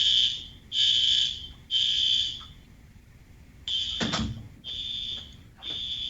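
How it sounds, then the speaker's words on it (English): A fire alarm sounds in a series of loud, piercing electronic bursts, roughly one every second with short gaps between, plus one sharp knock partway through, indoors during a nursing exam prep class. "Fire alarm, sorry."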